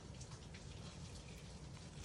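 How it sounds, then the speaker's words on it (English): Heavy rain pouring down steadily, a dense hiss of drops drumming on a surface, with no voices. "Can you guys hear that rain?"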